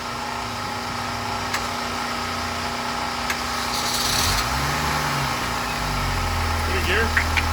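An endurance race car engine, prepared for a 24 Hours of Lemons race weekend, idles with a steady low rumble and vibration, rising in intensity partway through, with people talking nearby.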